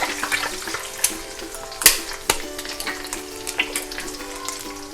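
Eggs frying in hot oil in a wok while making Chinese duck noodles, a loud close sizzle with sharp spattering bursts and scraping stir sounds, no one talking.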